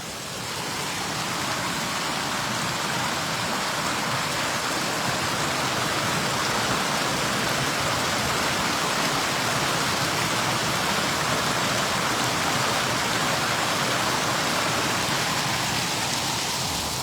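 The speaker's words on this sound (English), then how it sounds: "but hey, it's still a waterfall." A small waterfall in a Texas nature spot in Pflugerville, giving a steady, loud, broadband rush of falling water that stays unchanged throughout with no voices.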